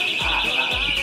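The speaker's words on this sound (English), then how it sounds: "Apparently, it sounds like someone put an alarm somewhere." A hidden alarm concealed in a ceiling sounds a loud, steady high-pitched electronic tone that holds without a break for the whole moment.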